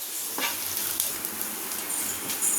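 Coconut and dal fry in a pan for a cluster beans masala, giving a continuous close sizzle with soft crackles and occasional stirring scrapes.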